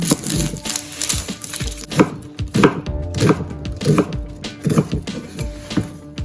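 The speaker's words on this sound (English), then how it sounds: "Next we'll roughly chop half an onion." A knife roughly chops an onion on a wooden board, a quick uneven rhythm of sharp knocks, close and clear with no talking.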